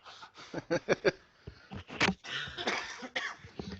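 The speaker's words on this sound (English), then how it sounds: "Everyone is coughing." Several sharp coughs and throat-clearing bursts come in quick, uneven succession, close and fairly loud, with short pauses between them.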